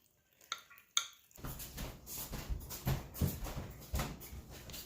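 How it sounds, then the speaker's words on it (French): A fork stirs yeast into pizza dough in a bowl, giving a run of close scraping and clinking strokes with a couple of sharper taps at the start, all without talk. "On verse et on brasse avec la fourchette."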